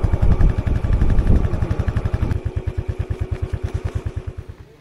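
A motorbike runs close by during a 5 km running event, its engine loud and chugging with rapid regular pulses that slow and fade slightly as it moves along.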